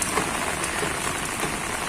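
A heavy downpour falls on a garden of American-bred roses in Kyiv Oblast on June 20, a dense, even hiss of rain striking leaves and surfaces up close, steady and unbroken throughout.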